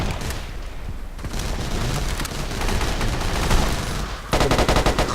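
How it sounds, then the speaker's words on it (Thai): Explosions and gunfire from the video game Battlefield 2142 rattle in dense, continuous bursts, with rapid automatic fire and booming blasts throughout and a sharper rattling volley near the end. "โดนระเบิดอีกแล้วครับ"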